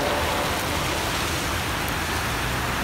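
Extreme heavy rain pours down in the UAE, a dense, steady roar of water hitting surfaces with no break, loud and close throughout.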